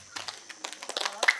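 Audience at a stage event claps in short uneven bursts, a few scattered group claps rather than sustained applause, fairly close with some voices mixed in.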